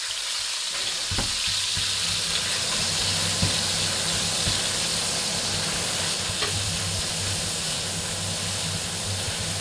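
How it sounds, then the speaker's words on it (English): Minced meat sizzles and fries in hot oil in a smoking wok for mapo tofu, a steady close hiss with faint stirring scrapes and a low hum underneath, continuous throughout. "now we're going to add the oil, and we are going to cook the mince first"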